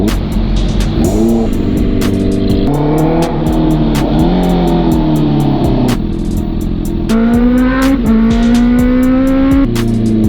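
Honda CB650R motorcycle fitted with a full system exhaust, ridden along a highway; a loud, steady engine drone rises and falls through repeated gear changes, close and continuous with no talking.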